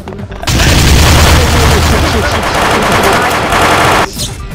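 Rapid automatic gunfire in a shooting video game runs as a dense, loud, continuous burst for about three and a half seconds, then cuts off abruptly.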